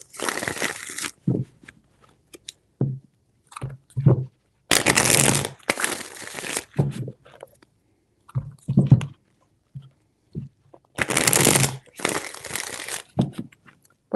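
Tarot cards being shuffled in three broadband bursts, crisp riffling rustles near the microphone, separated by quieter handling taps and small card movements.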